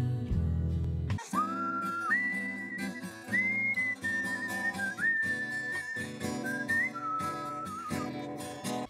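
Whistled melody sampled at the close of a song, a clear, sustained tune of gliding notes over a full musical backing, loud and continuous with no talking.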